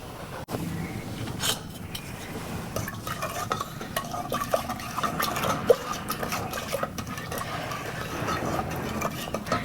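Milk is poured into carrot kheer in a cooking pot, a soft liquid splashing and gurgling with light stirring and clinks of the pot, close and steady without talk.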